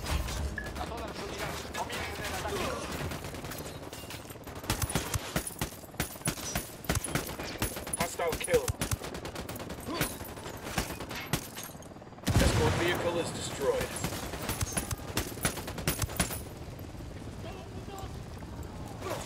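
Rapid bursts of gunfire crackle and rattle through a cartel truck fight in a shooter video game, dense and continuous with a sharp loud burst midway, mixed under game sounds and voices.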